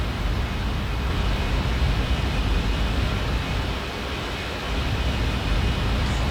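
An Airbus A320 in X-Plane 11, a steady broadband whoosh and low engine rumble with a faint high whine, continuous and even throughout.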